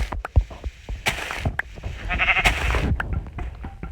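Sheep in the video game Minecraft bleat several times in short wavering calls, mixed with clicks, thumps and other game sounds, fairly close and clear.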